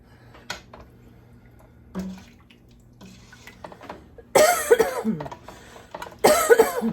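A person coughs hard in two harsh fits after broth goes down the wrong pipe while eating ham and potato soup, preceded by quieter throat sounds.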